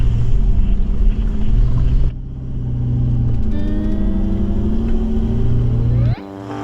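A 4WD vehicle in low range with lowered tyres and centre diff lock engaged grinds up a steep goat track, its engine droning loud and steady with rising revs and a sudden drop near the end.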